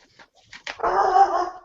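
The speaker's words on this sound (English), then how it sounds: "Shut up, dog!" A dog gives a few faint short yips, then lets out a louder, drawn-out whimpering whine close by, with no voices.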